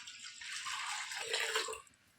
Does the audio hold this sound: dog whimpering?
no